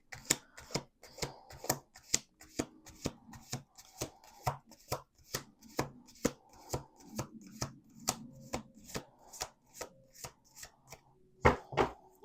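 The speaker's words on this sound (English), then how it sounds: "Last shuffle." Playing cards are shuffled over and over, each riffle a sharp, close snap repeating in a quick, steady rhythm, with soft hand rustling between shuffles and no talking.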